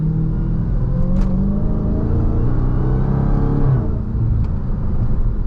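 A Dodge Charger Hellcat Widebody Jailbreak accelerating hard in third gear in manual mode: a loud, steady engine roar whose pitch climbs continuously, heard close from inside the car with no talking.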